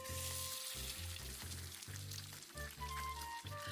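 Two eggs frying in a pan as a game sound effect, with a steady crackling sizzle interrupted by short bursts of popping and spattering throughout.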